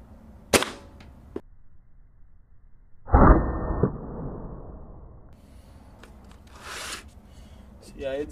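An air rifle fires a copper-coated pellet, giving a sharp crack followed by a second louder impact burst and fading rattle, with brief handling noises and a voice around it.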